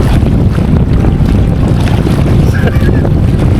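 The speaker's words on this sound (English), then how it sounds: "The wind just came roaring out of those trees out onto the water." Strong wind roars continuously across open water at Red Willow Lake in McCook, Nebraska, rumbling heavily against the microphone with waves lapping beneath the gusts.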